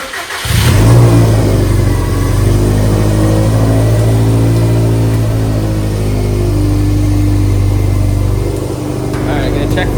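A Subaru STI's EJ20X boxer engine fires up for its first start, catching after a brief crank and then revving and idling loudly and steadily up close, with a deep rumbling low end throughout.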